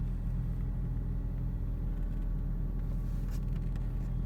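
A 1.6 GL Opel Vectra engine idles steadily after starting on the first crank, a close, even low rumble that holds without revving.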